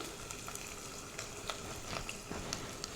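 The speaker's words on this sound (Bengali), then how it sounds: "তেলটা কিন্তু গরম হয়ে গিয়েছে, এবার হচ্ছে এখানে পেঁয়াজ আর কাঁচামরিচ কুচি দিয়ে দিলাম" Chopped onion and green chilli fry in hot mustard oil, giving a soft, continuous sizzle dotted with small crackles and pops, heard close but fairly quiet, with no talking.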